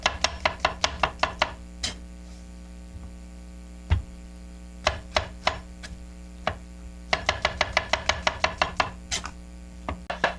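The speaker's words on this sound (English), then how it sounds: "So you get your mushroom cut on." Sharp kitchen knife chopping mushrooms for beef stroganoff on a board, quick bursts of close, crisp cuts separated by pauses, with a steady low mains hum running underneath.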